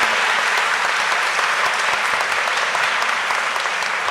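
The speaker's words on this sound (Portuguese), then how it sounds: "Gente, vou pedir uma salva de palmas." Dense, steady applause from an audience at a national patients' meeting, continuous and fairly loud clapping with no pauses.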